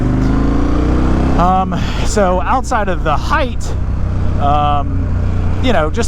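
A KTM 1290 motorcycle rides off, its engine a steady low drone running under wind noise throughout, with someone talking over it for most of the stretch.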